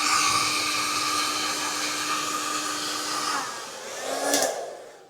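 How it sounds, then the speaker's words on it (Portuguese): A hair dryer runs with a steady whooshing roar, alongside a coffee machine, both powered by an ALLPOWERS R1500 portable power station; the dryer cuts off near the end as a short burst of machine noise swells and fades. "máquina de café ligada, carregamento de telemóvel e um secador"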